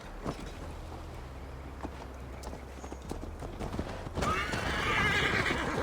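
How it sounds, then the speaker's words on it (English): Horse hooves clip-clop in a steady walking rhythm with a whinny, as a rider mounts up in Assassin's Creed Valhalla; the sound is moderately loud, and the hoofbeats pick up and grow fuller toward the end. "Mount up, Eivor. It's a long ride to Tamworth."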